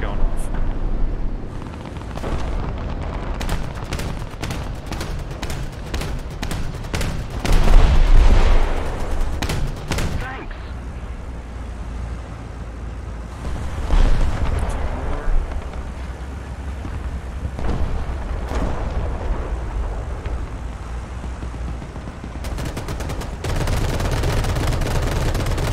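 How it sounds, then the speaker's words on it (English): Four aircraft cannons in War Thunder fire in long rapid bursts, a loud dense rattling roar with heavy booming swells, continuing with brief pauses across the whole stretch. "Even though you can tell when all four cannons are going off."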